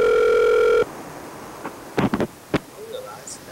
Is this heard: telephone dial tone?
yes